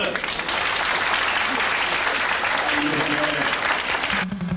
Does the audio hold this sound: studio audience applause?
yes